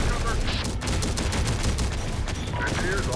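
Heavy, rapid gunfire from the real-time strategy video game Terminator Dark Fate: Defiance, with dense overlapping bursts and shots filling the whole stretch in a continuous battle din.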